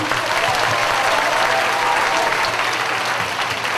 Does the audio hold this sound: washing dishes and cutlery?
no